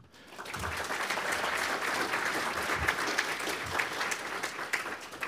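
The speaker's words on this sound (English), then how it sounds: "please join me in thanking each one of these folks with a round of applause" An audience at a comics forum keynote gives a steady round of applause, with dense continuous clapping that swells after a quiet start and holds for several seconds.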